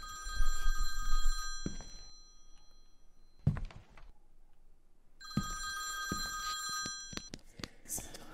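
A phone ringtone ringing, heard as two bursts of bright, loud electronic ringing separated by a quiet gap, with a thump between them and a low rumble underneath.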